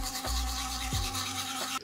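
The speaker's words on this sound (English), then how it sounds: "Okay, so I have my Sonicare toothbrush." A Sonicare electric toothbrush buzzes steadily at close range, its hum briefly changing pitch as it touches teeth or shifts position, with no talking.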